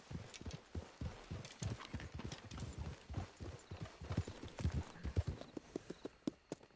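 Steady clip-clop of horse hooves trotting on hard ground in a GTA video game, a quick continuous rhythm of sharp knocks, close and fairly loud, with no talking.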